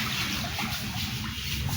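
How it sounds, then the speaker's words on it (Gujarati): Heavy rain pours steadily as a dense, continuous wash of falling water, close and even throughout with no pauses. "જોરદાર વરસાદ ચાલુ થઈ ગયો ને."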